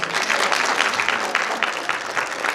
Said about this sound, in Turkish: Sizlerden bir alkış isteyelim efendim